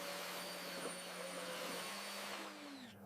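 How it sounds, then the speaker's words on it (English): A vacuum cleaner runs during a plane restoration job, a steady droning whine that holds at an even level and winds down near the end, with no talking. "Let's get the vacuum in here."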